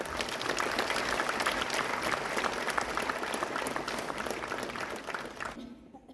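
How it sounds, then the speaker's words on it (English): Audience applause after a speech, a dense sustained wash of many hands clapping at close-to-mid distance, loud and steady for several seconds before tapering off at the end. "This calls for a resounding applause."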